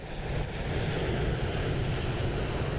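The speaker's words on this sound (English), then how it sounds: "Oh look, there's a takeoff right there. It's a Cessna." A Cessna propeller plane roars through its takeoff run in Microsoft Flight Simulator 2024 at Key West International, a steady loud engine drone with broadband wind rush and no letup.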